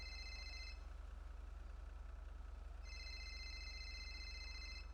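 During a livestream, a phone rings faintly in the background, with two separated bursts of trilling electronic ringing over a constant low hum and no voices.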